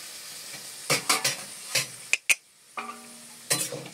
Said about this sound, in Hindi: सब पनीर को दे दिए, भूंज रहे हैं।